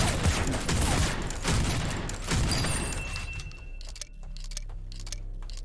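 Shotgun fire in the video game Project Genesis: a dense burst of loud, overlapping blasts fills the first half, then thins out into quieter game noise and fading tails.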